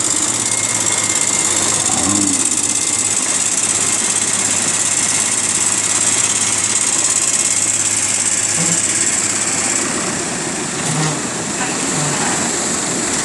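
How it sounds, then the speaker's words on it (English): Outboard motor on a fishing boat during a snoek fishing derby at St Lucia: a loud, steady engine drone with rushing water and wind noise that eases slightly near the end, with no talking. "Motor seeking traction, trimming down."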